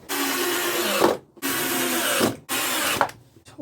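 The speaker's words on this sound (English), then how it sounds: "I can screw them to the floor using these decking screws" Power drill driving long decking screws into a wooden shed floor: three whirring bursts of about a second each, close and loud, each ending in a grinding bite as the screw seats, with short quiet gaps between.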